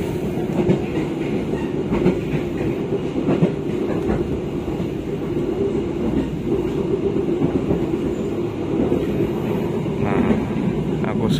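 Steady rumble of the Bogowonto economy-class passenger train rolling along rails in Indonesia, continuous and fairly loud, with faint rhythmic clatter and a murmur of voices in the background.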